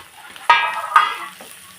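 Finely chopped onions, cooked until brownish, fry in a pan for a mutton fry, with two short bursts of sizzling as they are stirred, close and fairly loud.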